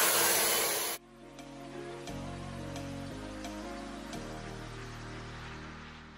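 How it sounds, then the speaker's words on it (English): A hair dryer runs steadily in a salon while drying freshly applied ash white hair colour, a close, even whirring hum that starts after a brief burst of noise and shifts pitch slightly a few times. "then after we have to use a dryer for 5 minutes."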